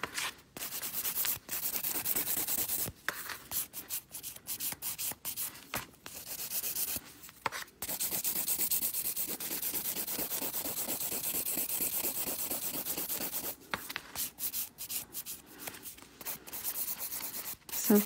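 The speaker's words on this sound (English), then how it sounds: "So finished filing's taken me about 10 minutes." A nail file rubs steadily across gel nails during a pink-and-white gel backfill, giving close, rapid rasping strokes in long bursts broken by short pauses across the whole stretch.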